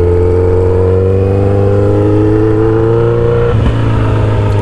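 A motorcycle engine runs loud and close, holding a steady rumbling idle with a strong low hum, then blips briefly with a short rev and clatter near the end.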